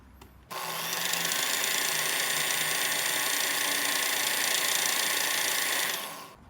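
Arrow spinning on a cresting machine, a steady motor whir that starts abruptly, holds evenly for several seconds, then winds down, heard alone and close.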